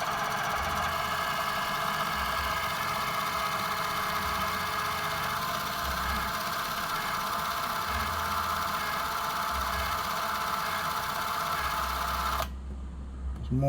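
Mechanical whirring of a Super 8 film camera running with a homemade DIY test cartridge loaded, a steady continuous hum with faint periodic thumps, close and fairly loud, cutting off abruptly near the end.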